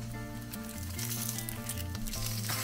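Sausages frying in a pan on an induction stove, a steady close sizzle running under a humming background tone, with no voices.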